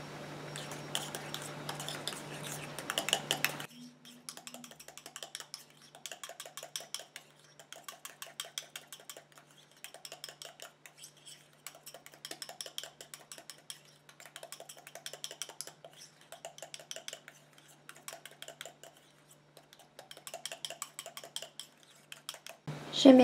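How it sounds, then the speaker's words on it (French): Small utensil tapping and scraping in a bowl while an anti-aging night cream is stirred, a steady run of light, rapid clicks and clinks throughout, close and fairly quiet, with no voice. "Et je mélange."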